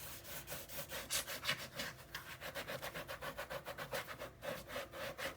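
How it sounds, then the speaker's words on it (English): Paper on an 8 x 8 folio being burnished, a quiet, rapid back-and-forth rubbing with an even, brisk rhythm, close by and free of talk. "I suppose I could burnish them too."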